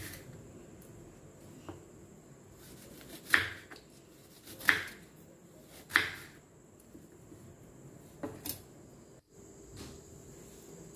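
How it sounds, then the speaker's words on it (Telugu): A knife cuts a peeled onion lengthwise into large pieces, making a few sparse, crisp chops against a board, spaced a second or so apart over a quiet background. "ఉల్లిపాయను కూడా పైన తొక్క తీసేసి ఈ సైజులో ఉండేటట్టు ఇలా నిలువుగా పెద్దగా ముక్కలు కట్ చేసేసుకోవాలి"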